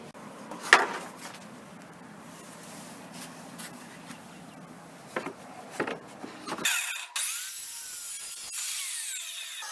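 Power saw making a compound miter cut in wood for a fireplace mantel surround; quiet handling and rubbing sounds come first, then a sudden loud, steady whirring cut fills the last few seconds.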